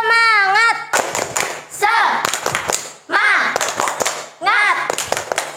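Children do a rhythmic spirit clap (tepuk semangat) in a school first-aid club session, with bursts of sharp group clapping mixed with loud chanted children's voices in a repeating pattern.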